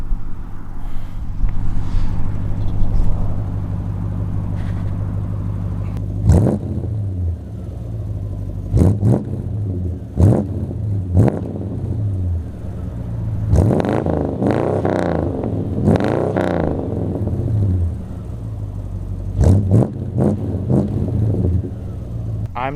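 A rare Mopar convertible's engine rumbles steadily and then revs in several sharp bursts through its exhaust, with people talking nearby between the revs.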